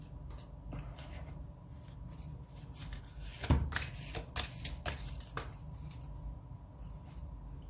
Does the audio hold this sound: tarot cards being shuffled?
yes